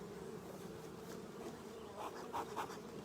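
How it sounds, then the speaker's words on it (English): A steady, dense buzz of many bees close to the hive, continuous and moderately loud with individual wingbeats swelling past near the end, no voices. "The bees are really moving and grooving today."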